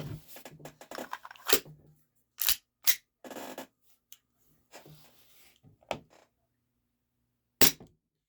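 An HFC DarkHawk gas blowback airsoft pistol powered by propane fires 0.30 gram aluminum BBs, a few sharp separate cracks with slide clacks spread unevenly among softer handling noises and gaps of silence.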